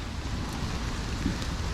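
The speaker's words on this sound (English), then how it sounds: "it's pouring down rain" Steady, dense rain hiss fills the whole stretch, broad and constant with no breaks or voices.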